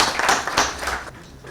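Short burst of audience clapping at an African Union heads-of-state committee meeting on climate adaptation in New York, a brief dense round of hands that fades out within about a second.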